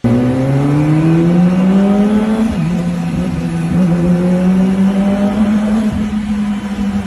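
A four-cylinder Kawasaki Ninja motorcycle engine revs loudly nearby, its pitch climbing and holding in a high, smooth whine, easing slightly and then rising again, with no speech.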